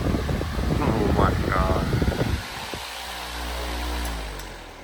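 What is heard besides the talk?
26 inch high velocity wall mount industrial fan at speed 3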